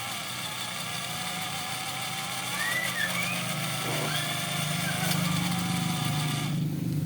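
A small RC car's electric motor running in its high speed gear, a faint steady whine with brief rising pitch sweeps as the throttle changes.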